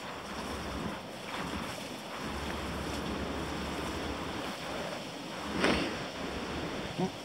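A river running full after a night of rain, a steady broadband rush of water with gusts of wind buffeting the microphone throughout, no voices.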